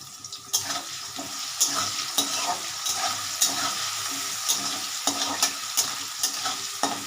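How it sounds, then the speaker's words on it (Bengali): Potatoes fry in hot oil in a home kitchen pan, a steady close sizzle with rhythmic scrapes and stirring strokes roughly every half second, no talk over it. "আলু ভাজা হচ্ছে"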